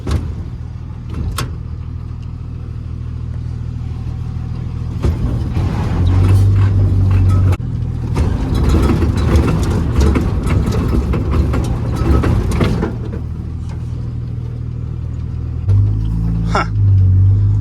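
A stubborn 1934 Plymouth Coupe engine cranks and tries to catch, with a steady low mechanical rumble that swells into louder, rougher running bursts mid-clip and a couple of sharp clunks, close by with no talk.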